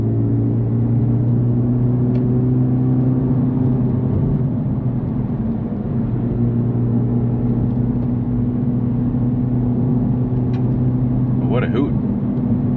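A Honda Civic Type R FL5 drives along with a steady low engine drone and road rumble inside the cabin, while a person talks over it throughout.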